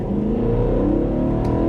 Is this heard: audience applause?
no